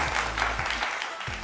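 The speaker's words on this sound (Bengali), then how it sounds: "তাহলে হয়ে যাক হাততালি টিম সি এর জন্য।" Applause for a game show team at an Independence Day event, a steady wash of clapping from a crowd filling the short moment, loud and continuous with no speech over it.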